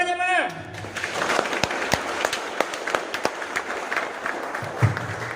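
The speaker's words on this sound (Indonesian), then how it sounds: "Tepuk tangannya mana?" An audience at a regional gathering of non-civil-servant staff breaks into scattered clapping right after a speaker's voice cuts off, with sharp individual claps over a busy room murmur.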